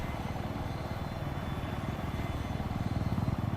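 A Battlefield 4 helicopter drones continuously with a rapid rotor pulse, steady and fairly close throughout, with no talk over it.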